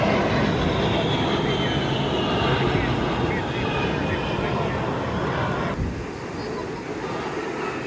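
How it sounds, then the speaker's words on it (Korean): Jet aircraft engine roar at an airshow on the beach at Cocoa Beach, Florida, a loud continuous rushing rumble that eases off slightly near the end, with crowd noise mixed in. "분명히 엔진 소리 나는데 비행기 어딨지 하고 자꾸 막 돌아보게 되거든요"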